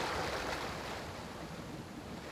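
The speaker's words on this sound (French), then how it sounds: "en expirant sur un autre son de vague." Sea waves wash in a soft, continuous hush of surf, fairly quiet and even, with no voices.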